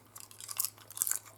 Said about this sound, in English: Crunchy, just like a potato chip from the store.